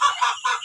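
Newly hatched turkey chicks on a farm peep close and loud, three or four bright chirps in quick succession.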